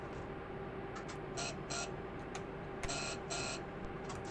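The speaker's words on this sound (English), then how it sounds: "You'll notice the buzzer is fixed." The cab buzzer of a Class 323 electric multiple unit in Train Simulator 2021 gives short electronic tones in pairs, sounding a few times over a low, steady cab hum.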